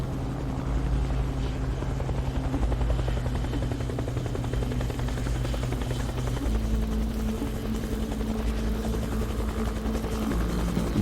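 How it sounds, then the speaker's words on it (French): Helicopters fly low over vineyard plots on a frosty night to stir the air, producing a loud, continuous rotor thrum and engine drone that stays steady and close throughout. "ces hélicoptères qui volaient au-dessus des parcelles assez bas pour essayer de brasser l'air"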